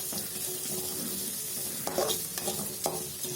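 Three finely chopped onions sauté in a pan for a spicy chicken gravy, a steady close sizzle broken by a few louder scraping stirs with no talking.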